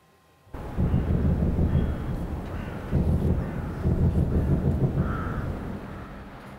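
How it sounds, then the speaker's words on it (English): Anti-missile air defences firing over Kyiv in the morning, a continuous low rumbling roar with repeated heavy bursts and booms, loud and sustained with no talk. "That is the sound of Kyiv's anti-missile defenses firing this morning."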